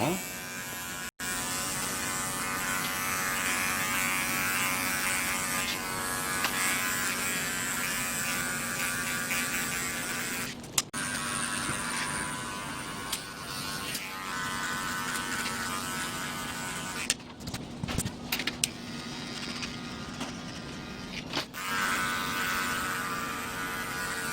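An electric hair clipper fitted with an 18mm guard buzzes steadily while cutting hair, a close, constant whine with brief clicks and dips as it moves across the head.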